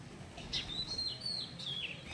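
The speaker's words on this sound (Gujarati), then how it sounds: "બધા કબૂતર જો આવી ગયા છે" Bird chirps and calls flutter through quiet background noise, a few brief tweets in quick succession at moderate distance, with no cooing clearly standing out.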